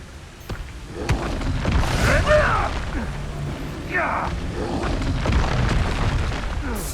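A spell explosion from Hogwarts Legacy on PS5 booms out with rumbling blasts amid swirling game effects, while a voice speaks over the action.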